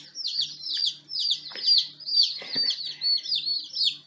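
Continuous high-pitched peeping from a group of chicks, rapid overlapping chirps with a few softer clucks underneath, fairly close.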